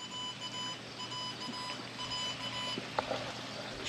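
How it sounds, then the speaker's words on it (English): A Halo 3 dog fence collar gives off repeated thin electronic beeps in a regular pattern, faint against a low background hum, with a couple of small knocks near the end. "Oh, I can hear it beeping."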